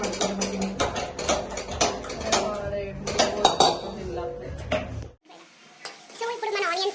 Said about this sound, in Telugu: సో ఇప్పుడు మన ఆనియన్స్ బాగా ఫ్రై అయిపోయాయి అనమాట.